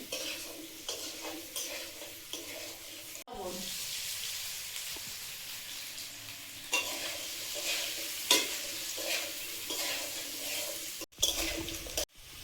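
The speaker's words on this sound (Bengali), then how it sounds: "লবণ দিয়ে হলুদ দিয়ে আগে একটু ভেজে নিচ্ছি।" Food frying in a pan with salt and turmeric for a home-cooked khichuri meal, a steady loud sizzle with stirring scrapes running throughout, briefly dropping out near the end.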